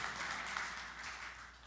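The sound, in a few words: church congregation applause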